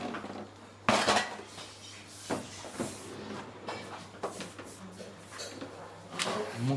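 Dishes and utensils loaded into a Bosch dishwasher, with repeated close clatters of plates, pots and cutlery knocking against racks, plus rack slides and scattered clinks at an irregular pace.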